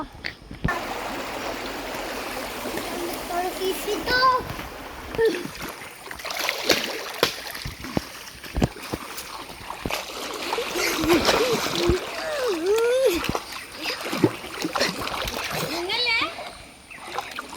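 People splash and dunk in a shallow village stream, with irregular watery splashes, trickles and sloshes up close, mixed with voices and children talking throughout.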